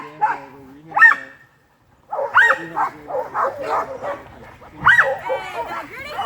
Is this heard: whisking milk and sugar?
no